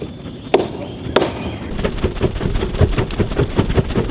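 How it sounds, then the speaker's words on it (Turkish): Steady rain patters outdoors at a wild camping spot, with a few sharper drops or knocks standing out early and a dense, continuous fall building through the rest. "yağmur yağmıyor dedin yağıyor şu an"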